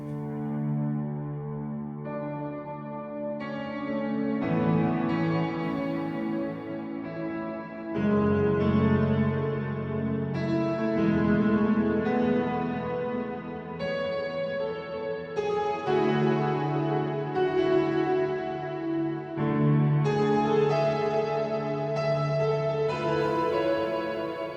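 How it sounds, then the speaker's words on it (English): A synth melody drenched in reverb, built from sustained chord-like tones that shift every few seconds and blend into a lush, washing tail, steady and moderately loud with no voices. "So that's epic reverb."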